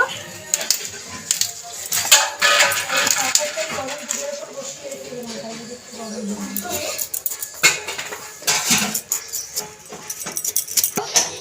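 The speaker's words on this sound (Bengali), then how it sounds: "ওলকপিটাকে ভালো করে ছাড়িয়ে নেব।" A knife scrapes and clicks as it peels kohlrabi in a home kitchen, with irregular rasping strokes and small knocks while a person talks over the work.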